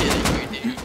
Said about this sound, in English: I walked into a shotgun trap